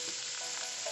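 Hot oil sizzles steadily as mixed vegetables, including peppers of all colors, onions and carrots, fry in a pan for chicken lo mein, a constant close hiss with no voices.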